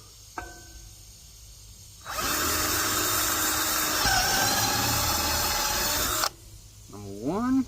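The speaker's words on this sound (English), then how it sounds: "I'm going to drill the holes." A cordless power drill drilling holes for a pontoon boat front bumper whirs steadily at close range for about four seconds, its pitch dipping partway through, with brief quieter motor sounds before and after.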